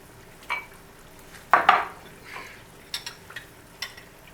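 A hand-made peach pie fries in hot oil, giving a quiet, low sizzle broken by a few soft clinks and scrapes of utensils in the pan, with no talking.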